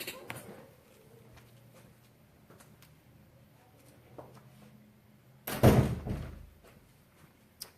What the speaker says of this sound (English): Sorry, I had to shut the door.